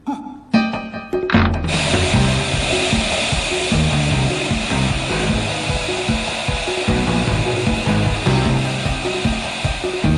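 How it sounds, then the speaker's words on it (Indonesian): Gas sprays in a hissing, continuous anime sound effect from Hunter x Hunter, starting abruptly after a brief musical moment and holding loud and steady to the end under background music. "semprotkan gasnya ya."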